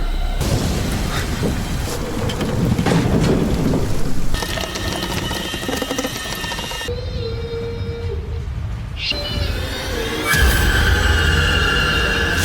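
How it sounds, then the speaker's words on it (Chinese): Thunderstorm at night with a house losing power: steady, loud rain pours throughout while deep thunder cracks and rolls in repeated bursts, the mix shifting abruptly between dense downpour and layered rumbling. "雷声炸响，屋内停电。"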